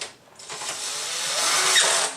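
A tool runs steadily as it tightens nuts onto the license plate mount studs of a 2017-2021 Honda Grom, giving a close, continuous whirring hiss that swells and then eases off.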